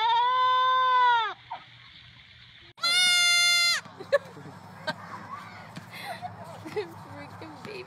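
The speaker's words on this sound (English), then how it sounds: "Freaking baby goat." A baby goat bleats loudly and close by, two long wavering cries separated by a short pause, followed by quieter scattered rustling and small sounds.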